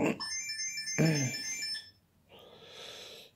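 A telephone rings with a bright electronic tone in two short bursts, while a person briefly talks over the second burst and then falls quiet under a soft hiss.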